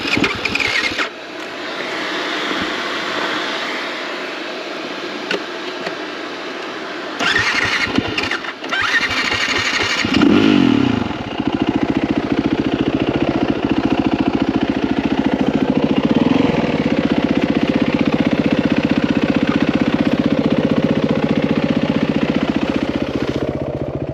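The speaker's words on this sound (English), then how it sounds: "just to call out the reason I leave the bike running" Yamaha WR450 dirt bike engine cranking and catching with a sharp squeal, then settling into a steady, loud, close idle that runs on alone without talk.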